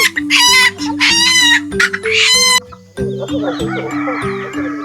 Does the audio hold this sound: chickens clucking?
yes